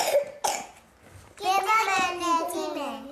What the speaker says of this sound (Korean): 이렇게 기침하는 거야.